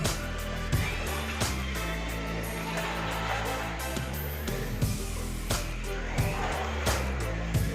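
A Slot.it Maserati MC GT4 slot car laps a home track, a constant high-pitched electric motor whine punctuated by repeated clicks and clatters as it passes through corners and over track joints, close and busy throughout.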